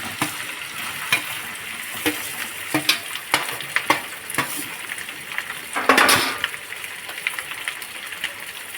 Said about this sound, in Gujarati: હવે આપણે બટાકા ઉમેરીશું